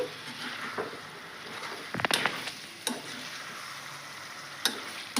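Cauliflower egg curry being stirred in a hot pan, with a steady sizzle of frying and sharp, irregular scrapes and clinks of the spoon against the pan up close.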